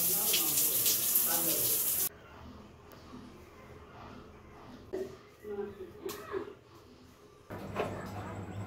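Water runs loudly and steadily from a tap for a bath, close by, then cuts off abruptly after about two seconds, followed by quieter knocks and handling sounds, with a burst of rushing water returning near the end.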